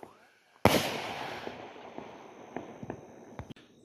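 A big $60 Fourth of July firework goes off with one sharp, loud blast after a short quiet, then a long crackling, fizzing tail dotted with smaller pops, heard close on a homestead.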